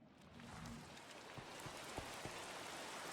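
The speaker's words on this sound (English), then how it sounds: "Oh, goody, it's raining." Rain in a video game makes a soft, steady patter, with a few faint drop-like ticks scattered through the quiet hiss.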